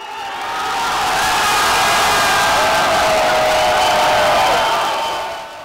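A soccer crowd in Russia cheering, a dense roar of many voices swelling in, holding steady and fading away near the end, loud and distant.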